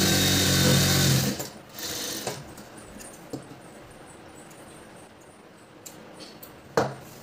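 A sewing machine runs briefly while stitching a blouse seam, then gives way to quiet workshop background with a few soft taps and a sharp click near the end.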